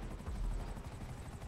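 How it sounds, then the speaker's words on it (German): Helicopter in the video game GTA V Online, a steady rotor whir with low thumping pulses, fairly faint and continuous throughout. "Ach, da ist ein Heli."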